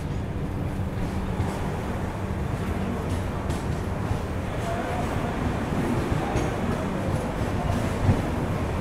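Gorakhpur–Yesvantpur Express train rushing past at high speed, a loud continuous rumble and clatter of wheels that holds steady throughout.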